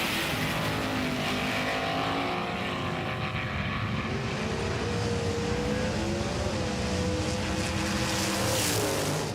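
Race cars, including a Mercedes-Benz, roar past together, with a loud continuous blend of engine drone and rising and falling whine that stays constant throughout.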